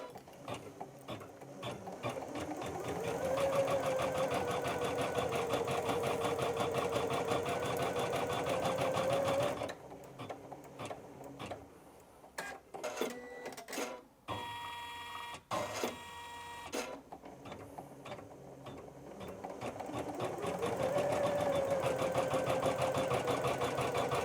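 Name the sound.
Janome Memory Craft 550E embroidery machine stitching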